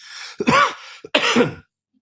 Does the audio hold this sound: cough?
yes